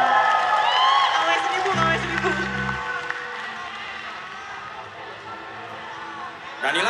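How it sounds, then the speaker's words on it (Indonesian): Festival crowd at a live concert at Synchronize Fest 2019, applauding and cheering in a broad wash of noise that fades gradually, with a low held tone briefly underneath. "tepuk tangan buat Gina dong"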